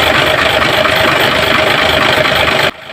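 Truck engine idling after the starter relay has been wired, a loud, steady mechanical drone that cuts off abruptly near the end, with no voices.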